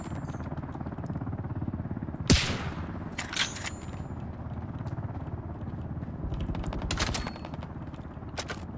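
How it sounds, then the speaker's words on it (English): Gunshots in the shooter game Ring of Elysium: a sharp close report near the start, then a few scattered shots and short bursts over a steady low rumble of game ambience. "You hear those shots?"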